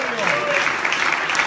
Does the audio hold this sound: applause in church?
yes